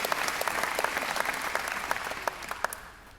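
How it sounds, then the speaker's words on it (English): Moderate crowd applause with distinct individual claps standing out, steady at first and thinning toward the end. "Thank you for your applause."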